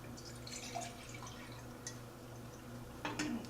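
Cold water trickling and dripping into a stovetop espresso pot, a faint, soft running with a few brighter splashes and drips near the end, quiet and close.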